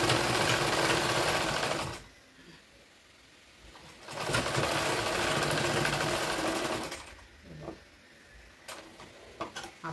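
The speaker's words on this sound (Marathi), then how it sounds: "आता आपल्याला परत एक शिलाई मारून घ्यायची" A sewing machine stitches a cloth bag in two close, steady runs of rapid whirring, separated by a quiet pause, then a few brief ticks and taps as the fabric is handled.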